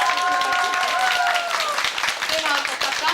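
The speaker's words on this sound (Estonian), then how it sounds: "teeme talle ka aplausi" An audience applauding at an outdoor village day event, with dense, steady clapping throughout and voices calling and talking over it.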